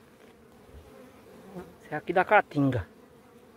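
Italian honey bees swarm over a hive in the Caatinga, giving a faint, continuous buzz in the background while someone speaks Portuguese over it in short bursts.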